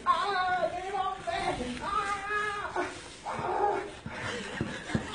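A police puppy in training yelps and whimpers in high, wavering cries, with a few short sharp barks and clatter close by.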